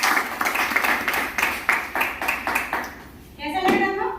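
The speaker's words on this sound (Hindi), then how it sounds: "लक्ष्मी जी के लिए एक बार जोरदार तालियां।" Audience clapping for a participant at a live demo event, a crowd of rhythmic, fairly loud claps in regular bursts, which fade out before a brief voice near the end.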